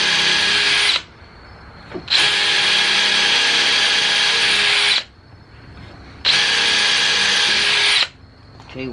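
A power drill bores through clamped pieces of wood in three loud, sustained bursts, each a couple of seconds long, with short quiet pauses between them.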